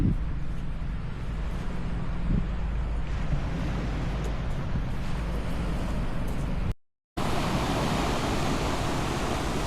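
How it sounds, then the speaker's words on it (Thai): Strong waves roar continuously on Hat Chao Samran beach in Thailand in a broad, rushing wash, cut by a brief silent gap before the surf noise resumes. "โห เสียงคลื่นนี่แรงมากเลยอะ"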